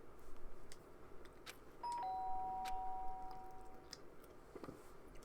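A video game doorbell in Danganronpa chimes twice in quick succession, a clear sustained electronic tone over quiet ambient music with faint ticks.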